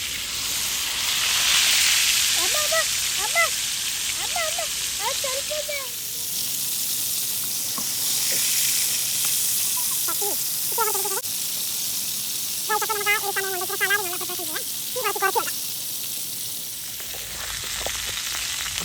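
Chicken sizzles and fries steadily in a pan at a beach campsite, a continuous close hiss throughout, with faint voices or chirps briefly breaking through in the middle.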